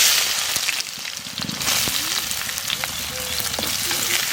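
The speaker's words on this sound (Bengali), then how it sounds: "পেঁয়াজটা একটু ভাজা ভাজা হয়েছে" Onion frying in oil in a pan with cumin, a continuous bright sizzle with scraping stirs and clinks, close and fairly loud, no talking.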